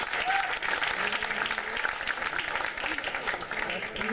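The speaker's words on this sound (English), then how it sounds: "So give yourselves a round of applause for your friends of Richard." An audience claps and cheers steadily throughout a Richard Pryor tribute at the American Cinematheque, a dense roomful of hands with faint voices mixed in.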